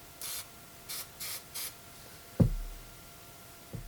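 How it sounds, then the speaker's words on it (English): Four short hissing bursts of carpet spray adhesive, close up, followed by a couple of dull knocks; otherwise quiet. "this is just a carpet spray adhesive, but I suspect any spray adhesive should do the job."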